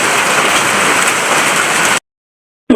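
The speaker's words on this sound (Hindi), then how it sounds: "बारिश ही लगी हुई थी" Steady, dense rain hiss pours onto surfaces of a home courtyard in a hilly rural area, loud and close and unbroken for two seconds before cutting to silence.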